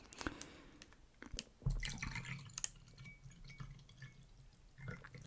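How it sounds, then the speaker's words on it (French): A drink is poured into a small glass, with quiet close trickling and dripping, a few soft glassy taps and a brief clunk in a hushed room. "On va se remplir un petit verre, voilà."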